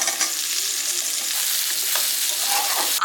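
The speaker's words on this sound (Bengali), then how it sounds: "আলুটা ততক্ষণ ভাজা হোক" Potatoes and onion frying together in a pan for a prawn curry, a steady close sizzle with light stirring scrapes, continuous and fairly loud with no talking.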